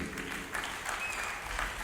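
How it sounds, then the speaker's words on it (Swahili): Applause fills a church during a wedding officiated by a bishop: a steady, dense wash of many hands clapping at once, fairly distant and even in loudness, with no voices over it. "Wapigieni makofi mengine."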